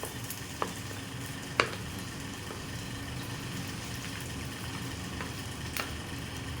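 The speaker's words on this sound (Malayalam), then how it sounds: "ഓക്കെ ചൂടായിട്ടുണ്ട് അതിലേക്ക് നമ്മൾ ഈ പൊട്ടറ്റോ സ്ലൈസ് ചെയ്തത് ഇടുക ആദ്യം" Sliced potatoes fry in a hot pan, making a constant fine sizzle under a low background hum, broken by a few sharp clicks and clatters from utensils.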